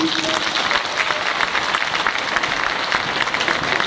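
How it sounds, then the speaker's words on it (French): A church congregation on its feet applauds during a service: dense, continuous clapping that fills the room evenly from start to finish, with a faint voice briefly at the beginning. "on peut les applaudir aussi"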